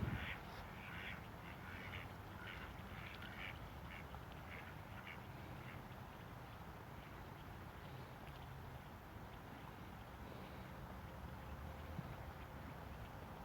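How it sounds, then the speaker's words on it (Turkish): Ducks quack in short bursts over a faint, steady outdoor background at a lake in a German park, fairly distant and quiet. "Ördekler geliyorlar."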